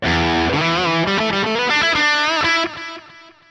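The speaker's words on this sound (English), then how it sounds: "So this is a panning delay, which sounds like this." Distorted electric guitar playing a melodic riff through a NUX MG300 panning delay, each note echoing back and forth in a bouncing stereo delay, ringing out and trailing off at the end.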